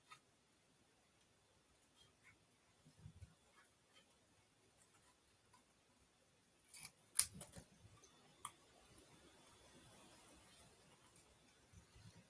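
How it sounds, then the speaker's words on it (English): Scissors trim stamped card pieces in a quiet room. A few faint snips come early, then a sharper cluster of close cuts and clicks follows, with light rustling after it. "let's give these a little trim"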